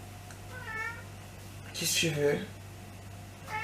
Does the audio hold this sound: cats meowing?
yes